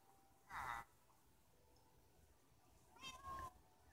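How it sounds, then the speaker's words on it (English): A cat meows in the Minecraft video game, two separate calls about two and a half seconds apart, clear over a quiet background. "Mama cat."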